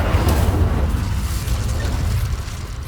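Incendio fire spell cast in Hogwarts Legacy, a steady low rumbling whoosh of flame that holds loud for about three seconds with no voice over it.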